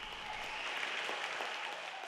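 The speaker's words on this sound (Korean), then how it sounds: "관객들은 모두가 일어나 기립박수를 보냈습니다." A concert audience gives a standing ovation after a Beethoven performance, with steady, dense applause holding at an even level throughout.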